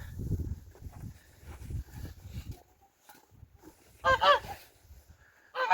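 A large flock of geese on a farm gives a few loud nasal honks near the end, following a stretch of low shuffling and thudding noises close by.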